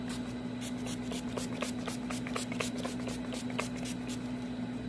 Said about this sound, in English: the last step is setting spray